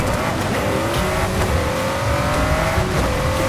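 A Nissan GT-R R35 at full throttle in Forza Horizon 5, the engine howling loud and continuous with rising pitch sweeps as it shifts through gears, steady and close throughout.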